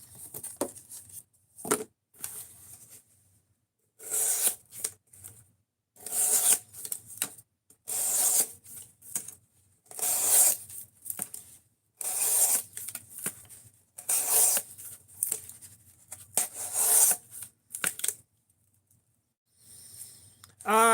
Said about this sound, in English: We're looking to see how much cardboard we can cut up before the edge of this knife is completely fucking destroyed.